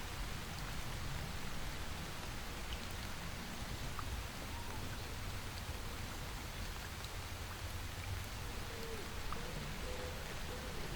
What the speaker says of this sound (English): The snap and sharp percussive sounds of individual droplets making contact with the surface below.